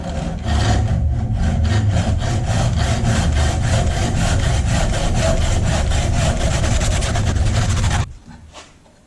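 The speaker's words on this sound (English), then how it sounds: "I'm just going to chop it straight off and then sand it." A hand saw cuts off the chipped part of a wooden tool handle during a rusty tool restoration, its fast, even back-and-forth strokes loud and close for about eight seconds before stopping abruptly.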